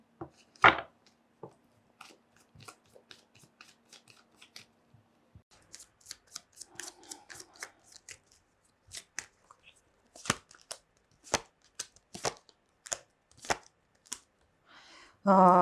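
Crisp, rapid riffling bursts like a deck of cards being shuffled, repeated several times with short pauses, close by and fairly quiet.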